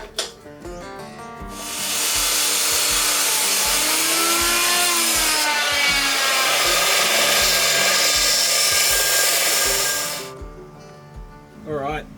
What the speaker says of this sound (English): I brought my cutoff wheel down to the floor. I've already gone and marked where I need to cut.